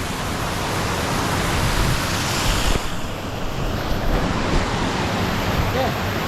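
Steady, loud rush of water at Lan Rak waterfall (Tat Hin Kong) in Nakhon Nayok, a broad continuous roar with a brief dip partway through.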